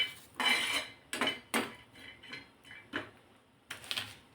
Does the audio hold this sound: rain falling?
no